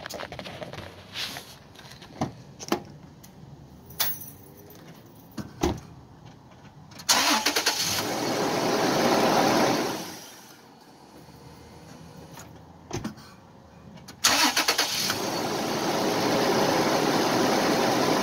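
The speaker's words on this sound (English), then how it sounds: "we're gonna try and start the truck for the first time" A truck engine fitted with a newly replaced aluminium-magnesium battery cranks with scattered clicks, catches and runs for a few seconds, dies, then clicks again before starting a second time and settling into a steady close idle.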